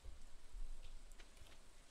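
Rain falls in Stardew Valley as a faint, steady patter with scattered soft drops, and no voices are heard over it.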